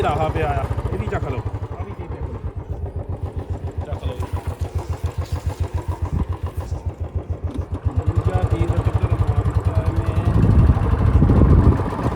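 A motorcycle engine runs nearby with a rapid, throbbing putter, revving up louder near the end, while voices talk over it.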